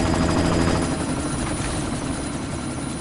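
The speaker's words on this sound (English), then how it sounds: "You've got to stop that chopper." Helicopter in the video game Deus Ex, a loud, steady rotor thrum with dense engine roar held close and constant throughout, no voices over it.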